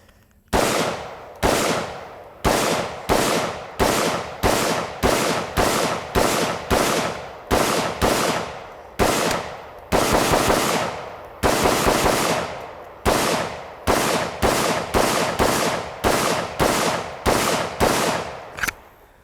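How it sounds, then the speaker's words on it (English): Loud rifle gunfire from a Spikes Tactical AR build fills the clip with rapid shots in quick bursts and short pauses, each crack sharp with a brief echoing tail. "I got one more magazine that we're gonna shoot here real quick, and this is a steel magazine."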